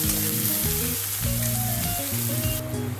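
Onions frying in hot oil for a raw jackfruit curry, a steady close sizzle with occasional stirring clatter, heard alone.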